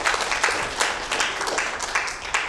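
Applause from the audience at a county board of supervisors meeting, several seconds of scattered hand claps in an uneven patter that rises and falls, fairly close, with no clear talk.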